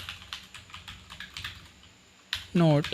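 Computer keyboard typing during a MySQL and Hibernate coding tutorial, a steady run of light, close key clicks over a quiet room, ending with a short burst of louder sound.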